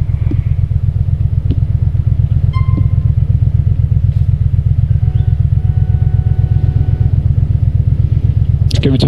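Motorcycle engine in the video game GTA with the LCPDFR police mod, a steady loud low rumble that stays constant throughout, with brief faint clicks on top.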